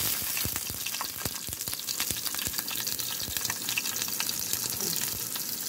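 Garlic sizzles and crackles steadily in hot oil in a pan for a chicken soup dish, a dense continuous frying hiss with scattered sharp pops close up.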